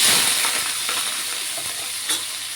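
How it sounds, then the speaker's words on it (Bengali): Chopped onion fries with cumin seeds and dried red chilli in hot oil, giving a steady close sizzle with faint stirring scrapes throughout and no talk. "একটু পেঁয়াজ কুচিয়ে দিলাম।"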